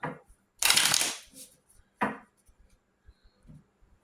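Tarot cards are shuffled up close in two brisk bursts of riffling, followed by a few soft taps and card handling, with no talking.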